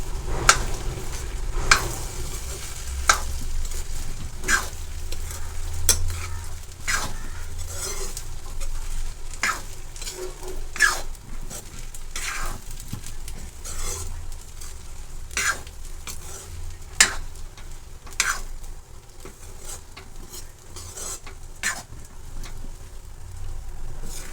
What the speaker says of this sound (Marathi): व्यवस्थित मिक्स करून घेणार आहे